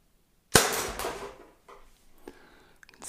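A Glock 17 Gen5 T4E airgun in .43 calibre firing aluminium balls: one sharp, loud, close crack followed by a short decay and a couple of faint mechanical clicks, with no talking.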